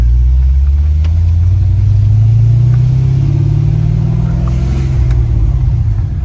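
A Corvette C6 with an LS2 V8 and a loud exhaust idles close by in a steady, heavy low rumble, with a slight rise in revs partway through, and no talking.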